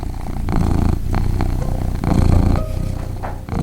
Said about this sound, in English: insistent nuzzling, light biting, and absolutely ferocious purring routine